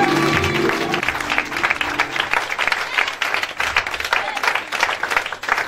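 A church congregation bursts into loud, dense applause and cheering for the Lord, sustained clapping filling the room with a faint voice underneath at the start.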